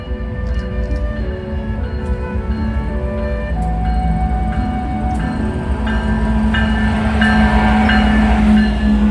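An eastbound intermodal freight train in Berwyn, Illinois rumbles past nearby with steady low-frequency roar, wheel clatter and squealing tones, growing slightly louder toward the end.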